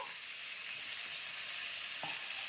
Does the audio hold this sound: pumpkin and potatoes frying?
yes